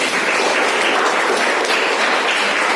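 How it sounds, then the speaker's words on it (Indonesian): A classroom of students applauds after a classmate's presentation, loud, dense, continuous clapping that fills the space without a break. "Pakai beri tepuk tangan dulu sama Nabila"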